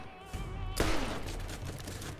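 Gunfire erupts in the video game Borderlands as Lilith fights. A sudden loud burst of shots breaks in after a quieter stretch, then rattles on amid game noise.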